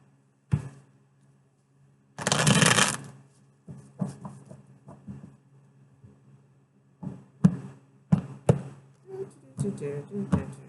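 Tarot cards are shuffled in a short riffling burst, followed by scattered taps and soft slaps of cards being handled and set down, close and fairly quiet.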